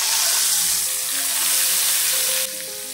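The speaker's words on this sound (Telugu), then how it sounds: "2 ఎండుమిర్చి, కరివేపాకు వేసి ఫ్రై చేసుకోవాలి." Dried red chilies and curry leaves fry in hot oil for a sambar tempering, a loud close crackling sizzle that holds steady, then drops slightly near the end.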